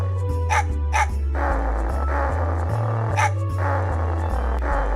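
A game dog in Mega Man Legends barks in short, repeated yaps over looping background music, several loud barks spaced through the scene.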